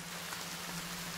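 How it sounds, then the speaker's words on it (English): Steady rain falls in the video game The Forest, an even hiss of drops that holds at a constant level for about a second, with no other sounds over it. "Ooh, it's raining."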